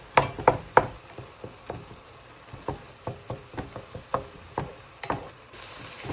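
Ground turkey browning in a pan, with a series of sharp irregular knocks and scrapes from a utensil against the pan over a faint sizzle, close and uneven in rhythm.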